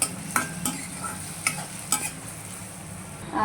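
Ingredients for a chicken gravy curry fry golden in a pan while a utensil stirs and scrapes them in several sharp strokes over a continuous sizzle.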